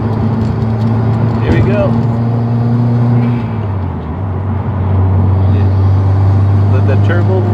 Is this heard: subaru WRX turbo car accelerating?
yes